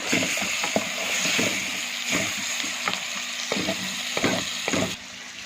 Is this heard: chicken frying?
yes